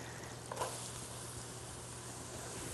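White onion sizzles in melted butter in a pan for a butternut squash bisque. A faint, steady frying hiss runs throughout, with one soft stir or clink near the start and no voices.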